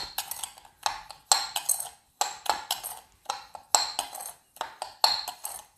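Quick stirring of ingredients for a sugar sheet in a bowl, a rapid series of clinking, scraping strokes of a utensil against the bowl in repeated bursts, close and moderately loud with no talking.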